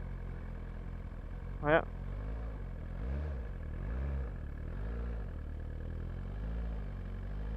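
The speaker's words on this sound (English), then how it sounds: "No clutch required to start the bike." A brand-new motorcycle started in neutral without pulling the clutch: a short sharp catch as the engine fires, then a quiet, low, steady idle with gently pulsing rumble, and a brief spoken exclamation over it.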